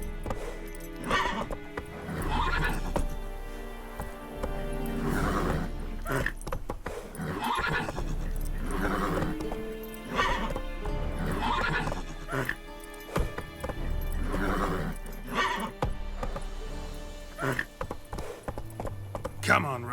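Horse in The Witcher 3 galloping with repeated clip-clop hoofbeats and loud neighs, while battle shouts and in-game voices talk over it.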